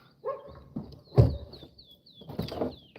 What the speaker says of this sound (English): So sorry about that dog barking.